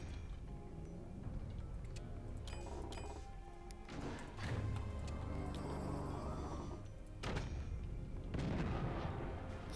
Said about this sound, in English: Stop shooting the cannons, I don't like it